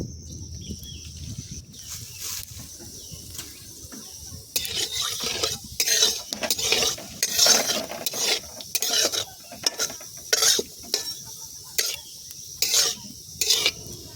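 Whole cumin seeds tempering in hot mustard oil for aloo dum, a quiet start giving way to a bright, crackling sizzle with rhythmic clattering stirring strokes, close and without talk.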